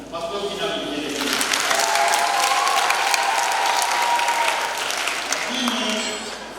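Church congregation breaking into loud applause mixed with high trilling ululation, sustained for several seconds with a voice audible at the start and end.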